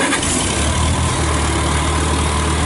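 An International Cub Lo-Boy tractor engine idles close by with a steady, loud, low rumble while the hydraulic lift operates, and no voices are heard.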